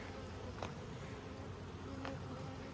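Honey bees buzz steadily around an open hive during a late-summer inspection of the inner frames, a close, continuous drone with a couple of brief louder passes near the microphone.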